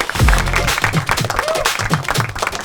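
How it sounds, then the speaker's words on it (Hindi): A studio audience at a comedy debate show applauds loudly to welcome the show, brisk clapping with crowd noise under a voice speaking. "तो एक बार जोरदार तालियों से स्वागत करो हमारे शो का"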